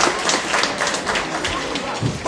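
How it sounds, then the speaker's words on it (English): An audience claps together at a talk, a dense, steady wash of applause that fills the whole moment at fairly close range. "So give a round of applause to yourself."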